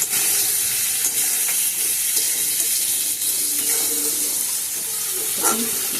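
Potatoes and green banana fry with tomato pieces in a pan for a Bengali fish curry, giving a steady, close sizzle and hiss throughout with a few faint clinks, no talking.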